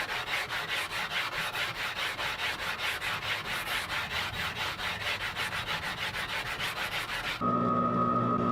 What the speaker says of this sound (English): going to sand a slight radius into the fretboard